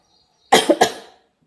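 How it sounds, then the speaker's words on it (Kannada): A person gives a short burst of two or three dry, close coughs in quick succession, which fade out within about half a second, with silence before and after. "ಸ್ವಲ್ಪ ಕೆಮ್ಮರ ಆತೈತೆ ನೋಡಿ ನಂಗೆ"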